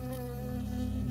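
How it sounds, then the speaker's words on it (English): A bee buzzes steadily and close in the Firewatch video game, a continuous droning hum holding at even loudness throughout without any talk. "I got stung by a bee."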